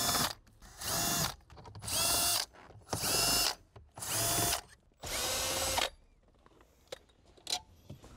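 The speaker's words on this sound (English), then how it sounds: "let's now remove the six 10 millimeter bolts" A power drill backs out the 10 mm bolts on a 2014-2016 Lexus IS 200t dash, five loud separate whirring bursts of about a second each with short pauses between them, then quieter clicks and handling noise.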